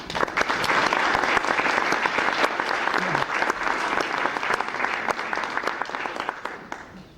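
An audience at the ISDC 2005 plenary session on prizes claps warmly to welcome Dr. Diamandis. The applause is loud and sustained and fills the room, then tapers slightly toward the end.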